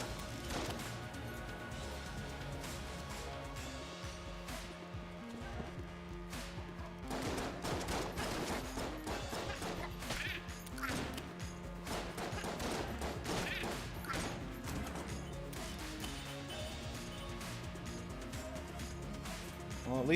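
Video game firefight with rapid bursts of gunfire, repeated sharp shots and blasts from grenades layered over a dense, busy background, heard at a low level with a voice talking now and then.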